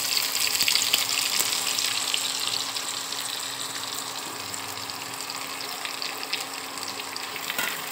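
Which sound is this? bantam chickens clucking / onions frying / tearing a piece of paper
onions frying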